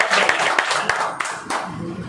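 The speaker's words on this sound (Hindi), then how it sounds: "बहुत बहुत ताली बजनी चाहिए।" An audience claps for about two seconds, a loose, moderately loud patter of hand claps with a few sharper individual claps standing out.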